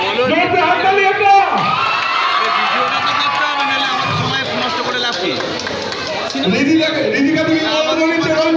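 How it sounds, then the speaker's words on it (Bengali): Fans packed into a cinema hall in Andul cheer for Bengali film superstar Dev, a dense, loud, continuous crowd roar with shouts and whoops that never lets up. "জোরতে হাততালি একটা।"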